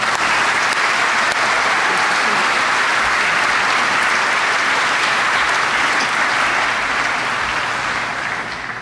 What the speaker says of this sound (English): Please join me in applause for our honored guests.